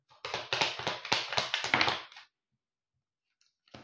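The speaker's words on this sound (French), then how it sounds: "ça devient vite pénible, hein, le bruit des cartes." Playing cards are shuffled and handled at close range in a quick burst of crisp riffling and taps lasting about two seconds, then silence, with a faint click at the end.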